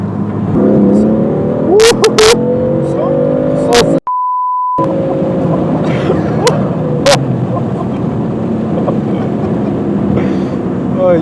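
A 560 hp BMW M4 accelerating hard on the road, its engine droning loud and steady from inside the cabin with rising tones, a brief beep, a short dropout, and a voice talking over it.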